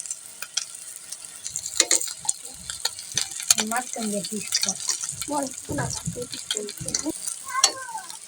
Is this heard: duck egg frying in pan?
yes